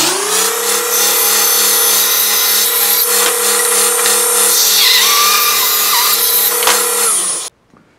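A power saw slices excess off a wooden strip for a Scrabble tile rack, a loud steady whine running for about seven seconds before cutting off abruptly.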